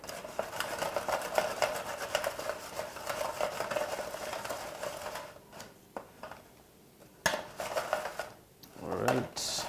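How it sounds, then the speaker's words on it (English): Baked sweet potatoes tossed in oil on a plate, clinking and scraping of utensil against dish in quick uneven bursts, then quieter scrapes and a louder clatter near the end. "I'm just going to toss them around a little bit in that oil."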